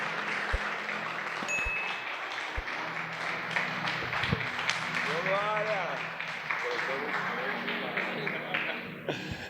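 A church conference congregation applauds in a large hall, with steady dense clapping sustained throughout, mixed with voices, a few brief tones and some room echo.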